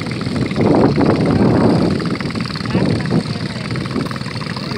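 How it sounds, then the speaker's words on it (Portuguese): Canoes with rabeta long-tail outboard motors race on the river at Porto Rico do Maranhão, their engines a loud, steady, rough drone that swells and eases slightly, with voices faintly mixed in. "Então agora está acontecendo a corrida de canoa, de motor de polpa, Rabeta"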